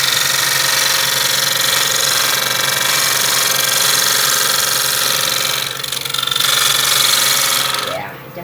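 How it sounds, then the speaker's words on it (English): Lathe turning a glued-on piece in an artist's studio with a dull tool that needs sharpening, giving a continuous loud rattling chatter over a steady motor hum, close and sustained throughout. "I'm trying not to make it totally round, and that's why I'm getting that chatter"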